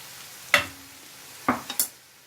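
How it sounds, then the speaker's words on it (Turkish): Red chili powder and curry spices fry in hot oil while a spoon stirs, giving a faint sizzle broken by a few sharp scraping strokes against the pan. "baharatların da kavrularak yağının tadına geçmesini istiyorum"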